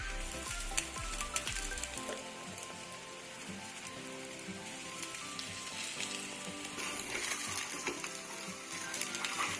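Cabbage talipattu cooking in oil on a pan over a medium flame, a faint, steady sizzle and fine crackle with soft scraping, continuing evenly throughout with no talking.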